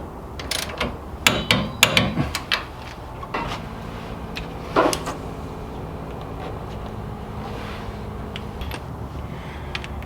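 A torque wrench tightens the hub nut of a Volkswagen Vanagon brake to 45 foot-pounds with a quick burst of sharp ratcheting clicks near the start, then quieter mechanical clinks and a low steady hum.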